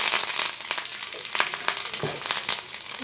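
Steady crackling sizzle of curry leaves hitting hot oil with mustard seeds, with sharp spits and pops scattered throughout, close and fairly loud.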